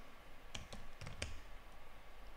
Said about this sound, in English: So first I'm going to type systemctl status